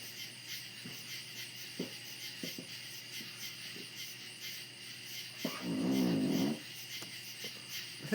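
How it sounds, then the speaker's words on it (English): A squeaky chair creaks and groans as a person sits down, a drawn-out strained creak near the end after scattered small knocks, close and moderately loud against a steady background hum. "That's my chair making all that noise."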